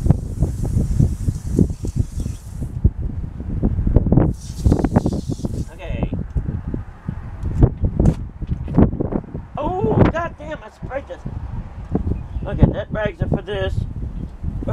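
Gusty outdoor wind buffeting the microphone during a van repaint job on side mirrors and wheels, heard as irregular low rumbling thumps and rushes beneath ongoing talk.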